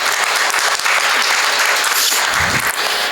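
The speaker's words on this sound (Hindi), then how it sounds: "इसके लिए पहले जोरदार तालियां बजाइए" A loud, sustained round of applause from an audience at a devotional bhajan music program in a temple courtyard, many hands clapping vigorously for the musician in a thick, continuous roar.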